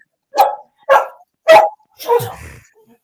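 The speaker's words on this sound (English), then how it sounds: "Whose dog is that?" A dog barks four times in a steady sequence during a live broadcast. The last bark trails into a rougher, lower growl. The barks are close and clear with no talk over them.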